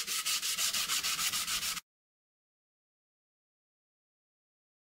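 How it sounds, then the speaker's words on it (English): Jointer blades being sharpened by hand with coarse 120 grit sandpaper, a rapid rhythmic scraping of about a dozen strokes close up, then abrupt silence. "I've gone straight to a 120 grit sandpaper, which is fairly coarse when it comes to sharpening"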